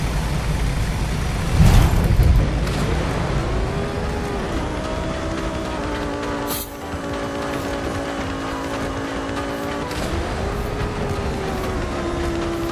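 Race car engine in Forza Horizon 5, a steady loud drone with gliding harmonics as the car shifts and accelerates, a brief burst of crunchy impact noise near the start and a short dip midway.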